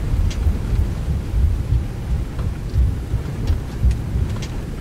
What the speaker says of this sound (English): it looks like it's raining here